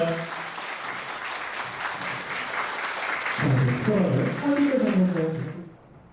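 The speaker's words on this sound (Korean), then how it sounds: "따뜻한 박수 부탁드립니다" Guests applaud the newly married couple at a wedding ceremony, warm clapping building at first, then voices talk over the fading applause before it drops away near the end.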